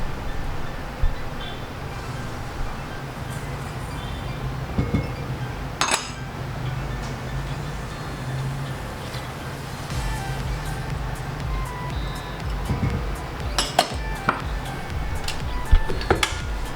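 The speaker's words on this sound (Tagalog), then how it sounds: "Cream first your butter, brown sugar, and your granulated white sugar" Butter, brown sugar and white sugar being creamed together in a bowl for chocolate chip cookie dough, with steady scraping and stirring broken by occasional sharp clinks of the utensil against the bowl.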